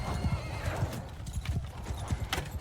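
Horse hooves clip-clopping in Mount and Blade 2 Bannerlord, with a rapid galloping rhythm of close, fairly loud hoofbeats and a whinny mixed into the battle sounds.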